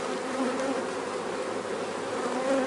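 A dense swarm of honey bees buzzes continuously nearby, a steady layered hum with no voices.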